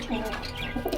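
A pet pigeon in a home loft gives soft, close cooing calls, two short murmuring bursts in quick succession.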